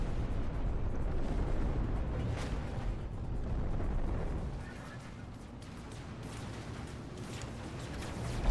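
Pirate ship strafing gunfire in No Man's Sky, a dense, sustained rumbling barrage of bursts and booms that stays loud for several seconds, eases off, then swells again with a sharp pop at the end.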